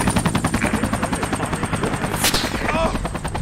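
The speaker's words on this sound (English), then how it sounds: "That chopper is back." A military helicopter in the Project Reality video game thumps with a steady, loud rotor chop close by, with a brief burst of gunfire partway through.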